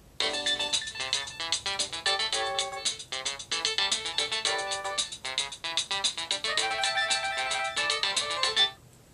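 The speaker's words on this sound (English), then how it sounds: "Number nine, what's your ringtone?" A phone ringtone plays a bright, busy synthesized melody of rapid repeated notes, loud and steady for about nine seconds before stopping abruptly, with no voices over it.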